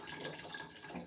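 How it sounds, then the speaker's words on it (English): Hot water poured from a jar into a canner gives a soft, continuous splashing gurgle, faint and close, with no voices. "what I'm going to do is pour some of this already hot water from this jar in there"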